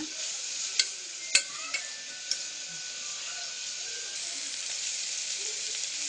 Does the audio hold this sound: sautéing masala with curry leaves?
yes